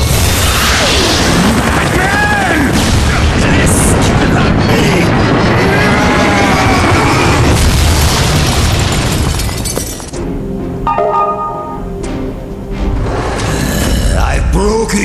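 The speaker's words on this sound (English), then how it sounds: "Fire missiles." Missiles fired and exploding in a Batman video game, a dense barrage of loud booms, crashes and shattering debris over whooshing launches, easing into quieter rumbling blasts near the end.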